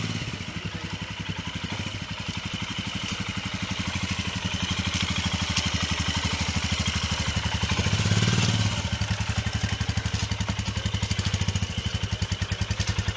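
A motorcycle engine idles close by in heavy snow at -10°C in Lachung, Sikkim, with a steady, rapid thumping putter, swelling briefly in the middle before settling back to its even rhythm.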